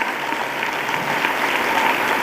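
Steady applause from an audience in a Delhi auditorium, welcoming a speaker to the stage at a construction workers' assembly. The clapping is dense and continuous, holding at an even level for the whole stretch, with no voices over it.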